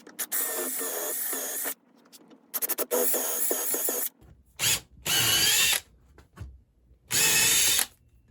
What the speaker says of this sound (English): running the bit backwards works really well because it doesn't take any of the wood out